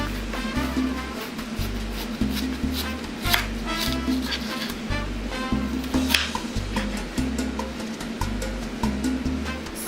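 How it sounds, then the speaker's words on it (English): Repeated thumping and scraping of a pestle grinding sauce in a wooden molcajete, a steady rhythmic pounding close by with a faint sizzle in the background. "We're using a Mexican wooden molcajete to blend the sauce that we're gonna add into our dish."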